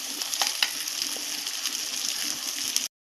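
Sago pearls frying in hot oil in a pan for sabudana khichdi, a steady close sizzle with a few sharp scraping clicks of stirring throughout, cutting off abruptly near the end.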